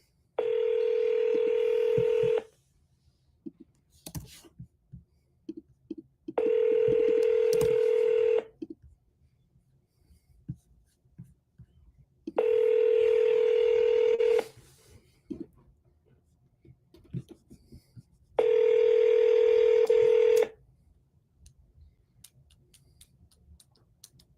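Telephone dialing tones sound in four separate bursts, each lasting about two seconds with long quiet gaps between, clear and steady at moderate volume with faint background ticks.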